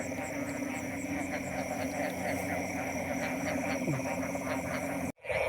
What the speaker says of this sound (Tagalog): Ingay sa paligid, tunog na mga palaka.